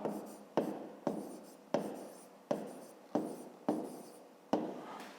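A pen scratches across paper in short repeated strokes, about eight soft scrapes in a steady rhythm, each starting sharply then trailing off, close and quiet with no talk.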